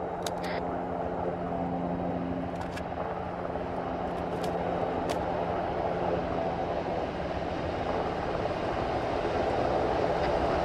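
A helicopter in the military game ArmA 3 drones with a steady, loud rotor and engine roar throughout, with a few sharp clicks and ticks over the top.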